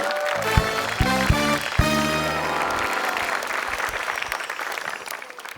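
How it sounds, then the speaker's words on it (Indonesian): Audience applause greets a comedian at a stand-up show, opening with a few sharp musical hits before a burst of clapping and cheering that swells, then gradually fades over several seconds. "Beri tepuk tangan yang meriah untuk Putra Uma."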